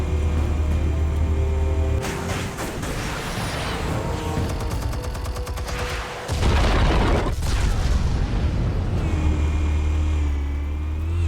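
Explosives detonating in Telltale's Batman game, loud booming blasts and crackling debris that swell and roll on for several seconds over a low engine-like rumble.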